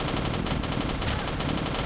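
Rapid, continuous bursts of automatic gunfire from the game Last Day on Earth rattle loudly and without break.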